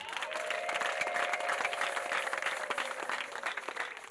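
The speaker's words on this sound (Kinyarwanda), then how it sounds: "muyihe amashyi n'impundu" Congregation at an ADEPR church prayer service breaks into sustained applause with ululation, a dense, steady wash of clapping and high trilling voices filling the hall for several seconds.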